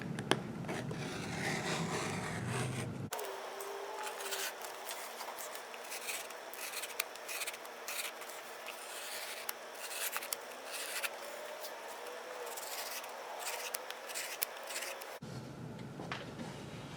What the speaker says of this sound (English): I'm gonna put really direct pressure down into the pages so that I can make as deep of a cut as possible